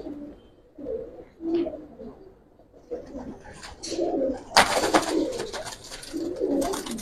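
A silver Giribaz pigeon coos in soft repeated low calls, with bursts of rustling and wing-flutter noise in the middle and a few other birds faintly around it.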